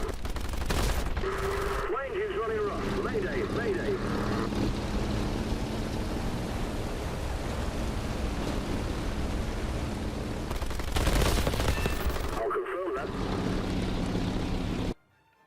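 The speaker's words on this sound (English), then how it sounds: "you're also going to need to take control of your tail gunner at key moments to see if you can take them out" Sustained machine-gun fire from the tail gunner of a PBJ-1J bomber in War Thunder: a dense, continuous rattle of rapid shots that runs for the whole stretch and grows louder for a moment near the end.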